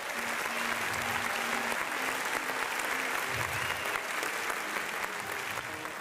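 Applause for Tarentaise cattle breeders at a livestock show, a crowd clapping steadily and briskly, with a low hum of voices underneath.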